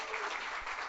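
A workshop audience breaks into brief applause, a dense, continuous burst of many hands clapping for about a second.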